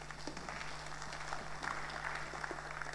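An audience at a national ICT week and technology forum launch applauds a speaker, a steady patter of many hands over an electrical hum, continuous for the whole stretch.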